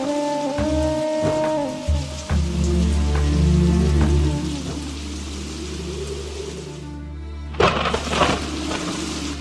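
Raindrops patter on a surface in a steady, close hiss of rain, with a few sharper drip hits early on and a brief lull before the rain noise returns.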